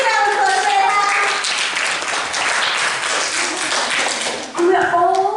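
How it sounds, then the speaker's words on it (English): Children's applause at an upper primary school bubbles show, a dense burst of clapping lasting several seconds, with voices calling out over it and an adult voice talking near the end. "Big round of applause there."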